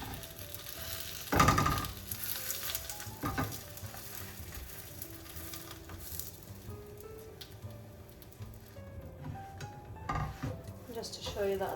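A Mediterranean spinach quesadilla sizzles and fries in a pan after being flipped, a steady close crackle with a sharp burst near the start and occasional scrapes and clatter.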